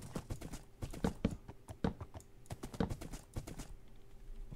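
Irregular hoof clip-clops from a Minecraft horse, fairly close, with a low steady hum underneath and no talking.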